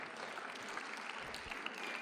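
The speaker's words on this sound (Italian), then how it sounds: "quindi gli facciamo subito un applauso" A room of listeners at a book presentation applauds, a soft, continuous wash of clapping heard faintly and from a distance.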